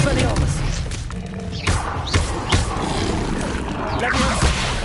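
Expelliarmus spell effect from Hogwarts Legacy: a dense, loud burst of magical whooshes and thuds with several sharp impacts over continuous game noise and ambience.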